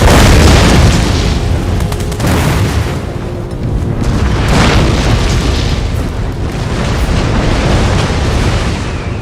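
Mass rocket and howitzer artillery fire in a strategy battle game: continuous loud, overlapping booms and blasts rolling on for the whole stretch, dense and close, with no talking.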